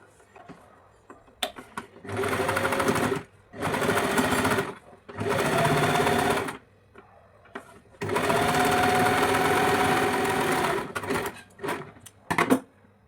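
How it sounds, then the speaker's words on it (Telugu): A sewing machine stitches a blouse in four loud bursts of steady whirring, separated by short pauses filled with faint handling clicks. "ఇప్పుడు పైన ఇంకో స్టిచ్ వేసుకుందాం"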